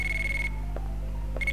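A pager in the Dino Crisis video game rings with a steady electronic tone that cuts off, a couple of faint blips follow, then the tone starts again briefly at the end.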